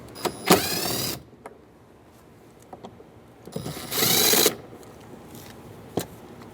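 A ratchet with an extension works on deep-set 10 mm bolts inside a 2007-2015 Mazda CX-9 door, giving two loud, close bursts of rapid clicking separated by quiet gaps and a few small taps.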